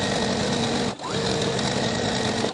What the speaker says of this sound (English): you just sew each end. Just a quick simple stitch before you start like trying to put the fabric on or anything.